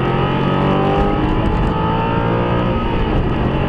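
A supercar engine accelerates hard on a wet track during a driving session, a loud, continuous close-up roar with rising revs that fills the whole stretch without any talk over it.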